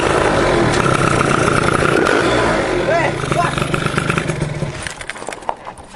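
Kawasaki Ninja ZX25 motorcycle engine running close by, a loud, buzzy high-revving drone that fades out toward the end, with people talking over it.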